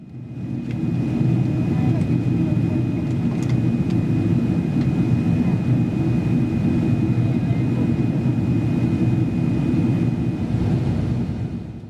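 Steady low roar inside the cabin of an Air Canada Boeing 777-300ER airliner descending toward Heathrow, a constant close engine and airflow drone with no breaks and no voices.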